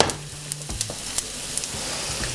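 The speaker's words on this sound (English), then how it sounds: "we want to fry it just shortly so that it gives some taste to the oil" Garlic fries in oil over medium heat, a steady close crackling sizzle with small pops scattered throughout and no talking.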